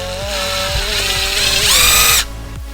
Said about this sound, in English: So the next step is to pre-drill your hole.